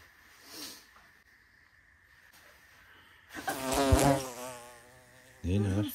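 Bee-like insect buzzing at a campsite by a new tent, a loud close drone swelling in the middle and returning briefly at the end, with faint quieter sound before it.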